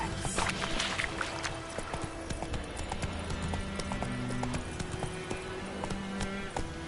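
Hooves clip-clop at a fast rhythmic gallop as the horse Roach runs in The Witcher 3, close and steady, with game music and ambient effects underneath.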